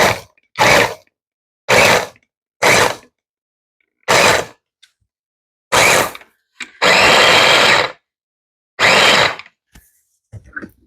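Short bursts of a motorized chopper cutting pistachios for cranberry bread, about eight loud pulses of whirring with silent gaps, one longer run in the middle, close up.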